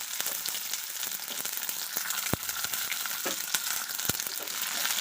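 Garlic and a thickly chopped onion crackle steadily in hot oil in a pan, a continuous bright sizzle with a couple of sharp spatula knocks and no talking.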